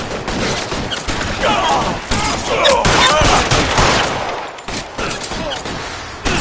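Dense video-game gunfire from L.A. Noire crackles in rapid overlapping bursts of covering fire, loud and close for several seconds with brief pauses.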